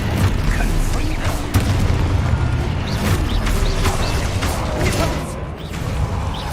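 The Confringo fire spell explodes repeatedly in Hogwarts Legacy, producing loud, dense booming blasts and crackling impacts that overlap continuously in a hectic combat mix.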